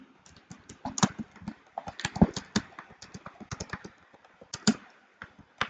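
Keys tapped on a computer keyboard while writing a document, an uneven run of quick close clicks with brief pauses between bursts, no talking.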